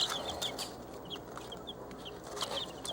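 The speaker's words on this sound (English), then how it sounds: "We mostly have 8 barred rocks, Plymouth barred rocks, because they lay the brown eggs that we like." Several Plymouth Barred Rock hens clucking around a chicken coop, with soft repeated clucks and a few sharper calls scattered across a steady outdoor background, fairly close and moderately loud.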